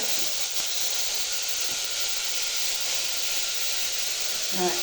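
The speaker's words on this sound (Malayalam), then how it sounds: "സവോളയും ചെറിയുള്ളിയും കൂടെ ചേർത്ത് ഞങ്ങൾ വഴറ്റുവാണേ" Onions and shallots sauté in a pan for a beef curry, producing a loud, continuous close-up sizzling hiss that holds steady throughout without pauses.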